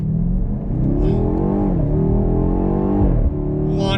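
A 2020 BMW X6M Competition in sport mode launches hard, its engine roaring loud and close with a steadily rising pitch, one brief shift dip near the end, and no talk over it.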